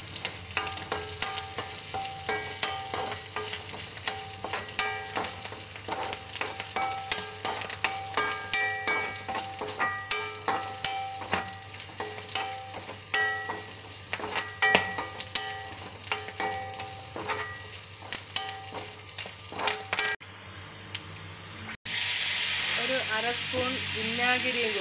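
Ginger, garlic, bird's eye chilli, mustard seeds, fenugreek and curry leaves frying in sesame oil in a pan for lime pickle: constant crackling sizzle with scraping stirs, then a sudden louder steady hiss near the end.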